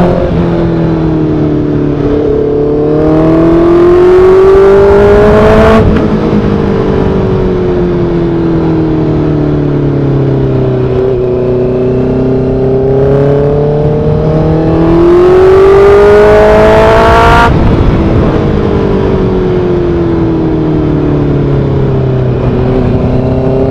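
A motorcycle fitted with an SC Project exhaust bought from Amazon revs hard and loud, pitch climbing and dropping through two long rising pulls with sharp cut-offs, close and alone.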